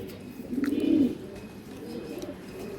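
A pigeon coos at a pigeon sale of racing birds, one deep, throaty coo swelling and fading near the start, followed by quieter murmuring coos against light background noise.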